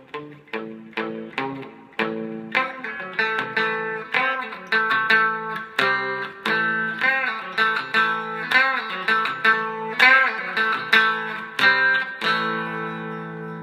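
Electric guitar plays a riff at a slow tempo, with distinct plucked notes and chords in a steady, repeating stop-start pattern, lightly effected and played alone without voices.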